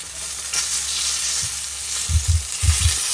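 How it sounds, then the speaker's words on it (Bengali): Fish frying in a pan gives off a steady, close sizzle and hiss throughout, with a few low knocks and stirring bumps near the end. "আমি ফিশ ফ্রাই করতেছি"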